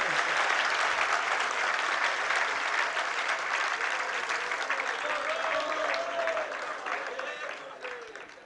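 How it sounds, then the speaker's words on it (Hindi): Seated listeners at a Jain religious discourse break into clapping, a steady wave of applause that gradually fades out, while someone speaks over the latter half. "अब यहाँ पर बैठे बैठे कभी भी लोग भी ताली बजा रहे हैं"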